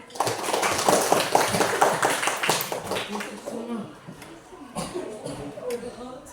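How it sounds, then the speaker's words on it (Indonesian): Students clap in a classroom, a burst of scattered hand claps over the first few seconds that thins out as voices talk over it. "Beri tepuk tangan."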